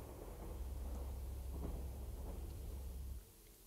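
A low, rolling rumble of thunder in the video game Jurassic Park: Operation Genesis fills the clip, steady and faint, then drops off abruptly near the end.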